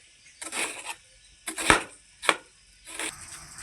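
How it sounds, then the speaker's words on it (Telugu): A large onion is finely chopped on a board for Andhra-style fish curry, giving four separate knife strokes spaced about half a second to a second apart, crisp and close with no voices. "ఉల్లిపాయను కూడా సన్నగా తరుగుకోవాలండి"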